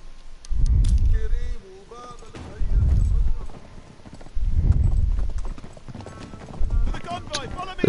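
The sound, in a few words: horse galloping in Uncharted 3 video game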